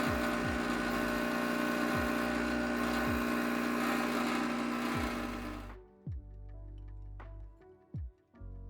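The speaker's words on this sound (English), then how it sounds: "there can be a good amount of rattling going on during brewing, leading to a relatively noisy experience." A Profitec GO single-boiler espresso machine's vibration pump rattles and buzzes loudly and continuously while brewing, then cuts off abruptly, leaving only faint clicks and knocks.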